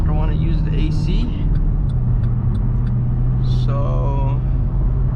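Tuned Cadillac CTS-V heard from inside the cabin under hard acceleration, its engine a loud, steady low roar that holds throughout, with people talking over it.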